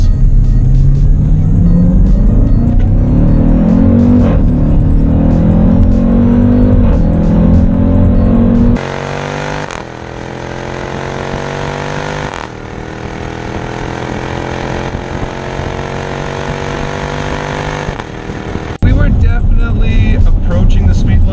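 A Jeep Trackhawk in track mode accelerates hard on a straight road, its engine note climbing loudly through several gear changes, with brief drops between shifts and a voice faintly over it.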